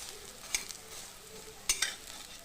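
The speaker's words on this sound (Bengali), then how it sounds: "আর একটু তেল এবার চারিদিকে একটু ছড়িয়ে দিব তাহলে ভাজাটা ভালো হবে" Pointed gourd frying in oil for a vegetarian dish gives a soft, low sizzle, broken by two sharp utensil scrapes or taps as the pieces are turned.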